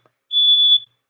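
A smoke detector gives a single loud, piercing electronic beep lasting about half a second in an otherwise quiet room.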